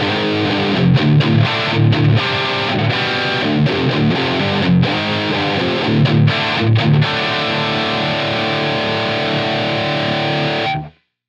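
Heavily saturated electric guitar through a Helix Placater Dirty amp model, preamp drive on 10 and master on 3, playing rhythmic chugging riffs then a sustained ringing chord that cuts off abruptly; loud and alone.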